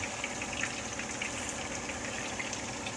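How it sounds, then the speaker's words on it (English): Italian-style chicken frying in hot oil, a steady close sizzle and crackle that holds constant throughout with no talking. "Frying, I think."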